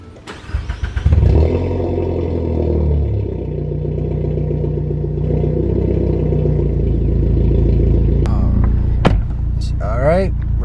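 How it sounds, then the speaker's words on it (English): A car is started after a throttle body upgrade: the starter cranks briefly, then the engine catches and settles into a steady idle. A few clicks and a short voice are heard near the end. "We're gonna go ahead and give it a startup, make sure everything works."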